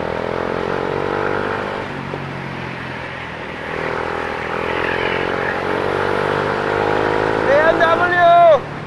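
A BMW C400X scooter engine drones steadily while riding, with wind noise and rising tone near the end, under a voice talking.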